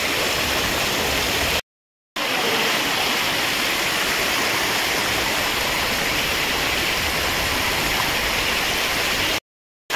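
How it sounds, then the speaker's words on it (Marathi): A waterfall on the Raireshwar plateau roars with steady, loud, close rushing water that fills the whole stretch, broken only by two brief cuts, and no voices are heard. "हा मागचा धबधबा, तिकडचा तो तसा सगळा सिनॅरिओ, हा धबधबा"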